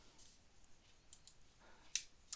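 Light keystrokes on a computer keyboard come in a few scattered, crisp taps with short gaps, quiet and close, with no voices.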